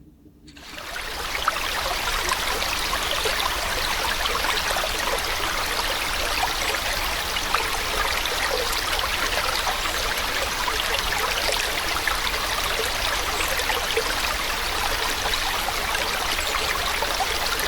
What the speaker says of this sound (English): I'm hearing probably only the most superficial elements, which is a stream or a river and a few birds.